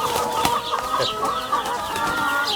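Several free-range chickens cluck and chatter close by inside a tent in a busy, continuous flock noise with no talking.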